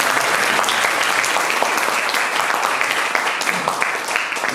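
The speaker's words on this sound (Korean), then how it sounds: "이번 세션 마치면서 감사하게 박수 한번 보내주시죠" Sustained applause from a conference audience closing a forum panel session, dense steady clapping filling the room for the full stretch without pause.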